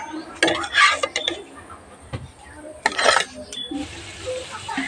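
A cooked aloo kulcha, made with water instead of oil, is lifted from the pan: sharp metallic clinks and scrapes of a utensil against the pan in two close bursts over a faint sizzle.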